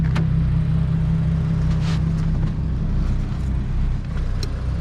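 A modded Subaru BRZ with an aftermarket exhaust, a loud, steady, throaty engine rumble held close by, rising briefly in a rev with a few crackly pops near the end.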